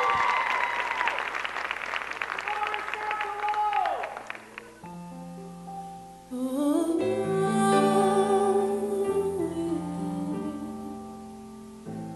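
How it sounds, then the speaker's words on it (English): Audience applause for a dancer at a college dance team's curtain call, broad clapping for a few seconds that gives way to a lyrical song, with music carrying the rest. "please give a warm round of applause for Miss Erica Garland"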